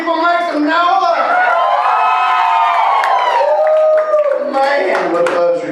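Church crowd at a comedy show cheering, whooping and clapping loudly, with a lively wash of shouting voices carrying through the whole stretch.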